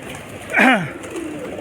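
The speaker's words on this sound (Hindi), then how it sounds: "अभी सब कबूतर बाहर आएंगे" A pigeon from a fancier's flock gives a single soft, nearby coo with a rising then falling contour, followed by a fainter trailing note over light background noise.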